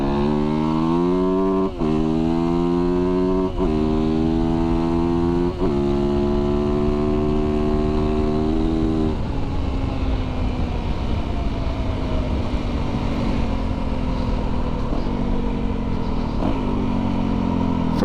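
A Yamaha YZ450FX fuel-injected dirt bike engine revs loudly and up close, its pitch rising in several steady pulls broken by brief gear-change dips, then falling to a lower, droning tone.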